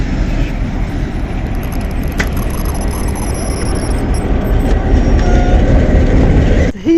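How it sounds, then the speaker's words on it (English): A working train rumbles slowly past close by in Skopje, a loud steady roar of wheels on track with faint clicking, lasting throughout. "And there is one of the working trains."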